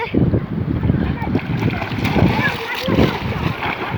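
Kicking feet splash water while someone swims, giving close, rough, repeated splashing bursts, with people talking nearby.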